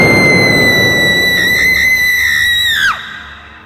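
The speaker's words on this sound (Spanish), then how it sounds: "logran escuchar el mismo y espeluznante grito de antes" An eerie, high, sustained scream rings loudly and wavers midway before sliding sharply downward and cutting off, leaving a faint tail.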